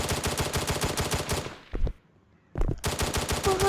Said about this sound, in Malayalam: ഗൈസ് അവൻ വെടി വയ്ക്കുന്നുണ്ട് ഗൈസ്.